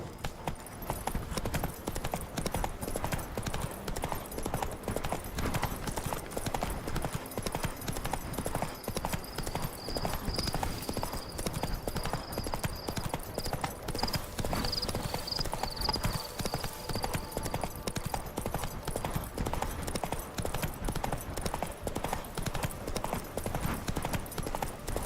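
Hooves of Roach, Geralt's horse in The Witcher 3: Blood and Wine, clip-clop in a steady rapid galloping rhythm for the whole stretch, loud and close, with a brief whinny-like tone partway through.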